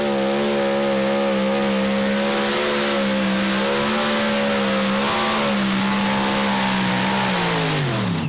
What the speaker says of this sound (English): 4 engines out on the front of that thing, digging as hard as they know how.